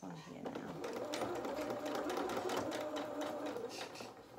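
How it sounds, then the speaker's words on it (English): A sewing machine stitches a small fabric boot for a toy rabbit, a steady close mechanical whirring with rapid needle ticks running throughout while someone talks over it. "Just use that needle down function again, or you can use your hand crank to hand crank it shut."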